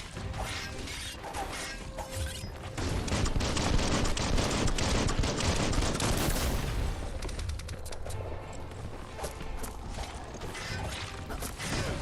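Weapon fire from a shooting fight in the open-world game Biomutant, a dense, loud, continuous clatter of shots and mechanical impacts that builds after the first few seconds and keeps going throughout.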